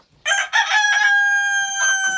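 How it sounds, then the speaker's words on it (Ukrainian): Loud, close call from a white Leghorn chicken: a sharp opening squawk followed by a long drawn-out crow-like cry that sustains for nearly two seconds, tailing off with a brief second burst, no talk. "Ось оці білі курочки."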